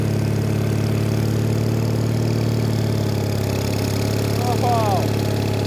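A Case trencher engine running steadily near and loud in a low mechanical drone, with a person's voice briefly heard over it near the end.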